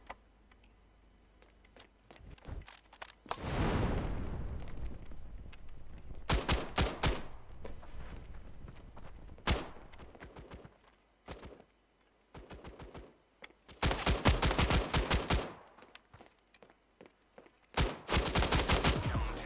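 Gunfire in the mobile shooter Standoff 2 during a 2v2 match: repeated bursts of loud automatic fire and single shots, separated by short pauses.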